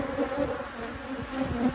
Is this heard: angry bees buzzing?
yes